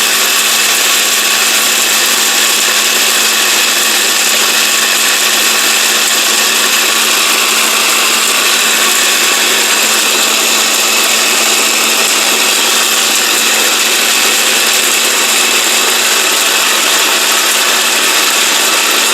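A BMW 1400-watt blender with a copper motor roars at full speed, a loud, steady high-pitched whine with a hum beneath it that holds unbroken throughout.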